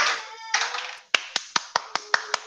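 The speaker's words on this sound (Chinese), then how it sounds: "拍手。" Audience clapping after a student talk on mechanical engineering, a few sharp separate claps ringing out in an irregular quick series, close and alone after a brief murmur.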